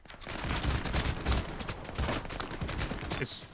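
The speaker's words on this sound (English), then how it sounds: "I wasn't expecting them to pepper me like that. I can't see who's shooting me." Enemy gunfire in the video game STALKER 2 crackles in dense, overlapping bursts, loud and chaotic, with a brief lull near the middle before more shots, while a voice talks over it.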